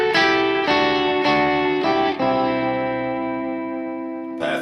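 An electric guitar plays through a BOSS GT-1000 harmonizer set a third above. A few close, distorted notes and chords are struck in a row, then one chord rings out and fades before a fresh strum at the end.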